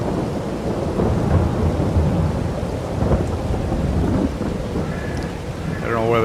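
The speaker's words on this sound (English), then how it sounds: "It's the beginning of May and it's raining." Steady rain pours on a farm in early May in Farming Simulator 22 on PS5, with low rumbles of thunder rolling through and a brief rising game tone at the end.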